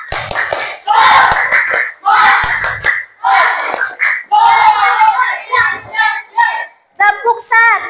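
Primary school class in a microteaching lesson performing a rhythmic clap-and-shout chant, with bursts of children's voices and sharp hand claps in repeated phrases, loud and close, pausing between rounds.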